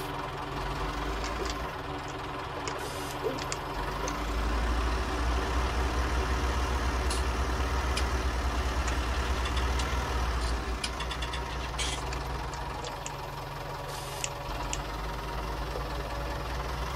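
A tractor engine runs steadily on a farm, with a low, knocking, rumbling drone that stays close and fairly loud throughout, with no talking.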